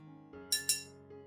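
Two quick glassy clinks ring out close by, a spoon tapping the side of a glass while stirring a plant-revival solution into clean water.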